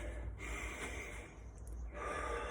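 Steady mouth breathing during a workout, with audible gasping inhales and huffing exhales that carry on alone without any talking.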